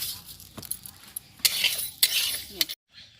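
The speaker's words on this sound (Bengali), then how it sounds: "ডালটা আমি ভেজে নিচ্ছি।" Gentle sizzling as dal fries in a pan while a utensil stirs and clinks against the metal, with a few scraping taps before it cuts off.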